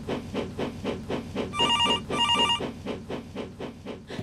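A telephone bell rings in repeated short bursts over a rhythmic pulsing background, with two brighter ringing bursts standing out in the middle, fairly loud and close.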